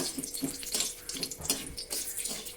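Dried red chilies and bay leaves fry in sesame oil, giving a steady close sizzle flecked with small crackles and pops throughout.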